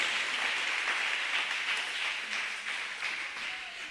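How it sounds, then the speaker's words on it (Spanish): Crowd applause at a Catholic preaching and worship event, a steady wash of many hands clapping together, fairly even in loudness and slowly easing off toward the end. "Vaya fuertes aplausos al Rey de Reyes, Señor de los Señores."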